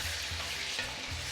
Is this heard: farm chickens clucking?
no